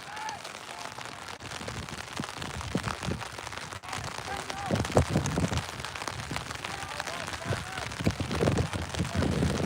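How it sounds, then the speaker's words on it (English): Moderate rain during an outdoor boys' high school soccer match, a steady hiss of falling drops mixed with crowd and field noise and voices throughout. "it has turned from a drizzle to a moderate rainstorm here"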